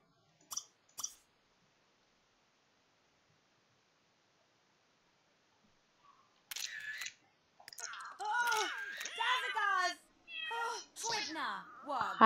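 A cat in The Sims 3 video game meows several times in quick succession near the end, after a short click at the start and a long stretch of silence.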